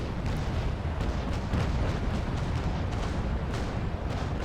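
Broadside cannon fire from a sailing warship in a Naval Action battle between a Trincomalee and a St. Pavel, a dense rolling series of booms at a steady loud level with no talk.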